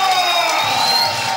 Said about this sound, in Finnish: Yleisö riehaantuu täällä Helsingin sirkuksessa.